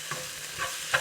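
Steady sizzling from chopped garlic frying in a pan, with a few soft stirring scrapes and no voices.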